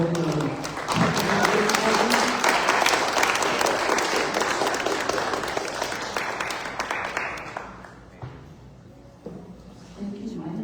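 Conference audience applauding after a speaker, a broad sustained wash of many hands clapping that gradually thins and fades, with a voice speaking near the end.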